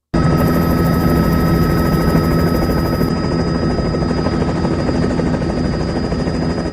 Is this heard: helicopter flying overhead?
yes